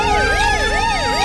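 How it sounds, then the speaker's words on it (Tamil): An ambulance siren sounds loudly nearby, its rising and falling wail cycling steadily with a slight tonal drone underneath and no voices. "டேய், என்னடா ஆம்புலன்ஸ் சொன்ன? சவுண்ட் பக்கத்துலயே கேக்குது."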